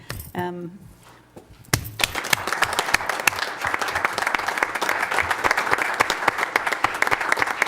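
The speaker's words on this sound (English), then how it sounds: "stand up so that we can give you an applause" After a short moment of talk and a clink, applause for city staff swells at a council meeting, many people clapping steadily and fairly close.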